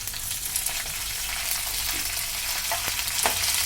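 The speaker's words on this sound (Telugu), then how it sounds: "బాగా బ్రౌన్ రంగు వచ్చేదాకా పచ్చెనపప్పు బాగా వేగాలండి" Chana dal frying in oil with urad dal, dried red chillies and curry leaves for an okra dish, a steady hissing sizzle with a few faint stirring clicks, no voices.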